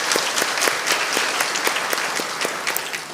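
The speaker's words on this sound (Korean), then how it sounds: "하나님께 영광의 박수 올리겠습니다" A congregation at a Friday church worship service claps steadily and loudly, a dense continuous round of applause throughout.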